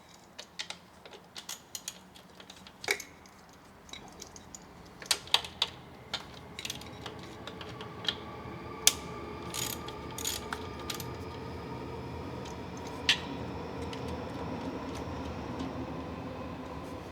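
Ratchet clicks as bottom bolts and nuts are loosened on a radiator guard fitted to a Husqvarna Svartpilen 401 motorcycle, with scattered close clicking bursts over a steady low background hum.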